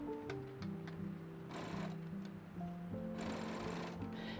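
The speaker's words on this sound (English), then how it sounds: "I'm going to sew the front panels in place so I can see clearly what I'm working with." Sewing machine stitching the front panels of a halter babydoll dress, a quiet rapid mechanical whir in short runs with brief stops and ticking clicks between them.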